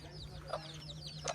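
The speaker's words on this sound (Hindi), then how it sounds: "And all these are your chickens?" Chickens cluck in a Maasai village in Tanzania, a few faint, short clucks scattered over a low steady hum, with some talk nearby.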